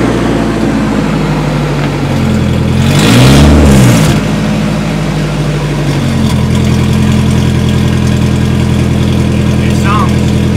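A Nissan 240 with an SR20DET engine runs loudly at a steady idle, swelling once in a short rev before settling back. The engine stays close and constant throughout.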